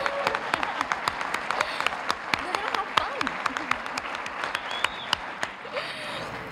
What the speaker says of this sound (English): we wanted to clap, let's do it